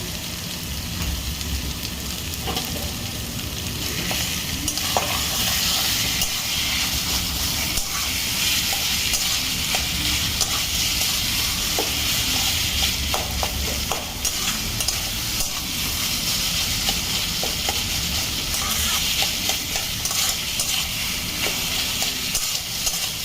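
Taro leaves and prawns cook in a pan with green chillies and a pinch of sugar, giving a steady close sizzle with frequent scraping stirs throughout. No voices.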